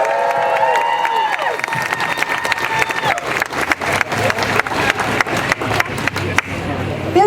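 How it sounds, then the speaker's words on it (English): A crowd at a talk applauds and cheers as a speaker is called up. The clapping builds after a few seconds of tonal sound and continues loud and steady, with sharp individual claps standing out near the end. "Let's give her a round of applause."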